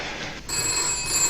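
A telephone bell rings in a home bedroom, a steady electronic-sounding trill that fills the short moment, briefly dipping before resuming at the same level.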